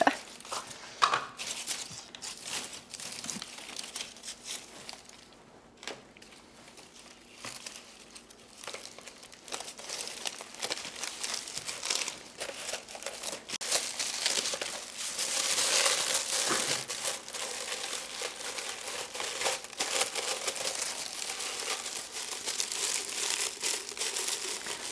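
Paper being crinkled and crumpled by hand, a continuous close-up rustle of dense crackles that grows busier and louder in the second half, with no talking.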